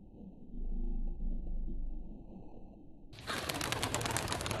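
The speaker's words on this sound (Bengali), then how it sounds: "আমরা উড়াই দিছি কবুতর" Pigeons released by hand outdoors, a sudden burst of flapping wings and rustling breaking out after a stretch of quieter ambient noise, loud and close as the birds take off.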